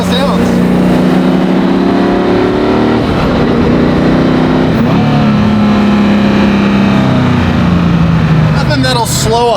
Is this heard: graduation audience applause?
no